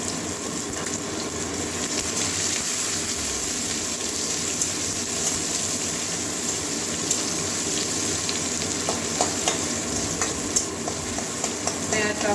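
Loud, dense sizzling of onions frying in a pan, continuous and close, with occasional stirring scrapes and crackles.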